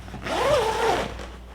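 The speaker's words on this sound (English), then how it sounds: "And another zipper here." A zipper drawn shut on a light-tight film changing bag used for developing film, one smooth rising-and-falling zip of about a second, close and clear with no talk.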